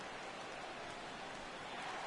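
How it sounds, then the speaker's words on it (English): Steady rain falling during a baseball game in MLB The Show 17, a continuous even hiss throughout, soft and unbroken with no other sounds. "Rain continues to fall here in the 6th."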